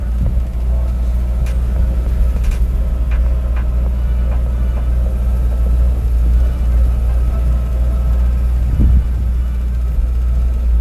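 A restored 1970 Peugeot 504 with original sliding roof and a 2000 cc XN1A engine drives along, a loud, steady low engine rumble and road noise with a few faint knocks and clicks.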